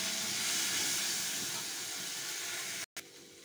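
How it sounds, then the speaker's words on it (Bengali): Nigella seeds, chopped garlic and ground prawn paste hit hot oil in a kadai, giving a loud, steady sizzling hiss that holds evenly, then cuts out abruptly near the end before a quieter resumption. "দিয়ে দেবো কালো জিরে, কুচিয়ে রাখা রসুন, হালকা নেড়ে নিয়ে বেটে রাখা চিংড়ি মাছটা"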